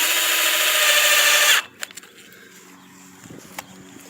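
A power driver runs half-inch screws into downspout pipe fittings with a loud, steady whine lasting about a second and a half, then stops, followed by faint handling clicks and knocks.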